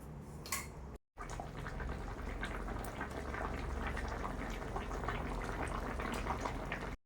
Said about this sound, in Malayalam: ഇനി നല്ലപോലെ തിളപ്പിക്കണം